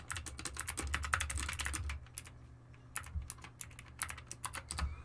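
Quick bursts of keystrokes on a computer keyboard clatter close by, pausing briefly midway before the rapid tapping resumes, with no talking.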